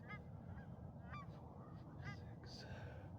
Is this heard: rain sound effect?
no